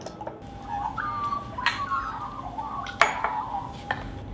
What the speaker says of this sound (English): So we now combine the eggs with the honey and butter and sugar mixture, beating it well.